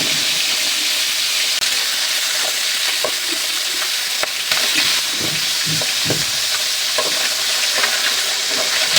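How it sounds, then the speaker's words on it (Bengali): Fish frying in oil, a loud, constant sizzle with scraping and clinks of a utensil turning the pieces every so often. "মাছ ভাজা হয়ে গেছে"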